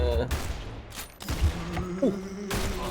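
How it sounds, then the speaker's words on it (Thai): Gunfire in the Roblox video game: a few quick bursts of shots, fairly faint against game background sounds, with short pauses between them. "แล้วผมยิงเป็นเป็นร้อยนัด มันยิงนัดเดียวผมตาย"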